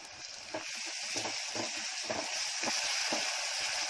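Cumin seeds and a spoonful of chutney sizzle steadily in hot oil for tempering, a continuous bright hiss broken by soft stirring knocks, close and fairly loud.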